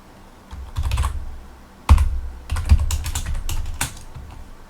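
Keys clacking on a Commodore 64 keyboard, close and fairly loud, in uneven bursts of several keystrokes with heavy thumps, separated by short pauses.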